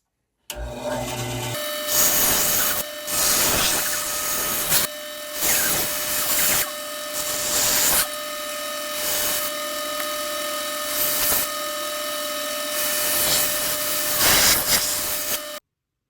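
A bandsaw fitted with a fresh, sharp blade cuts through wood while making a squid lure, sounding as loud, steady whining passes broken by short pauses between cuts, with no talking.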